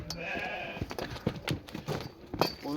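Sheep and lambs at a livestock market bleating close by in several short overlapping calls, with faint background bustle between the cries.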